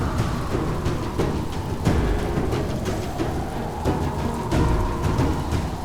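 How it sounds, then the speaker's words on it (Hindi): Heavy rain pours steadily outdoors with low rumbles of thunder rolling underneath, a dense, continuous wash with no voices. "बाहर तो इतनी तेज बारिश हो रही है"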